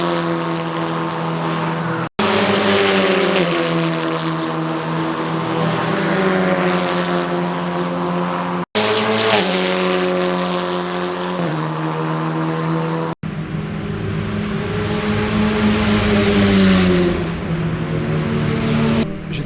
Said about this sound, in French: je vais vous montrer un peu les voitures qui passent